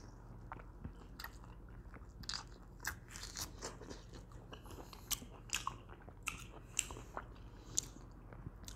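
Someone bites into and chews a juicy malta orange up close, producing repeated wet crunches and squishy smacks in an uneven rhythm, with no talking.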